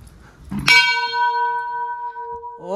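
A metal bell at a Hindu temple of Vindhyavasini Devi is struck once, ringing loud and close with a long clear sustained tone that slowly fades, a second strike beginning at the end.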